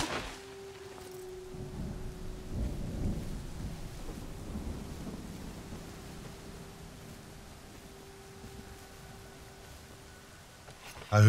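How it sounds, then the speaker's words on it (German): Steady rain hiss in the video game Smalland: Survive the Wilds, with a low rolling rumble of thunder swelling early on, a faint sustained tone running underneath throughout. "Da hört der Regen auch mal auf."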